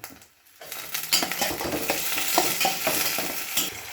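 Chopped spring onions sizzle and are stirred in a hot pan after a brief silent start, with spatula scrapes and steady frying hiss throughout, close and fairly loud.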